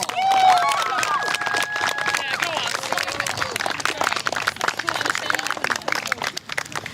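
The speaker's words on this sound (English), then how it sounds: "let's stand up, give a big round of applause for the team who came in second place" A crowd at a women's football awards event gives a steady round of applause with scattered cheering and chatter, loud at first and gradually thinning.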